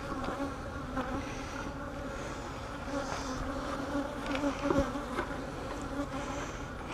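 Honey bees swarm and buzz steadily around an open hive during a beekeeping inspection, a dense, continuous drone close to the listener with individual insects passing near.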